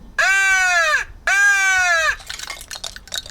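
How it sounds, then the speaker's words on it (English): Two loud, drawn-out caws, each sliding downward, come from a crow call whistle, with softer scattered noises trailing after; no talk. "This one sounds like a crow."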